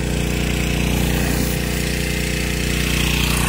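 Power washer cleaning a driveway, a steady loud broadband hiss with a constant low motor drone, heard alone.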